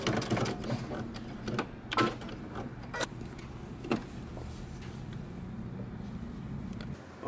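Domestic sewing machine backstitching the seam of a men's fitted shirt, with short bursts of stitching broken by sharp clicks and knocks from the machine, fairly quiet and close.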